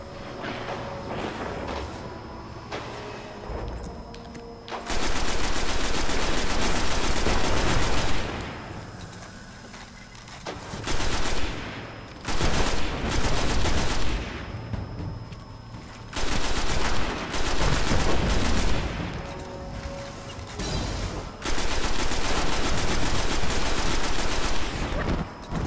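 Gunfire in Destiny, with repeated loud bursts of rapid automatic fire separated by short quieter pauses, close and dominant throughout.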